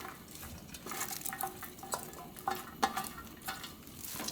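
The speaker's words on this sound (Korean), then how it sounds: "양배추를 먼저 볶는 거예요." Cabbage stir-fried in cooking oil in a wok or frying pan: a steady sizzle under repeated scraping and clinking strokes of a utensil against the pan, close and moderately loud.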